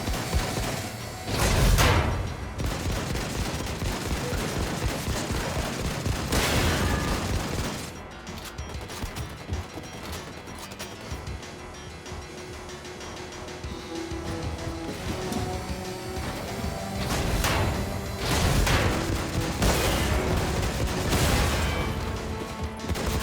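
Gunfire and explosions in the Wolfenstein 2 video game, with heavy blasts and bursts of rapid shots near the start, a quieter stretch in the middle, then more loud impacts and fire toward the end.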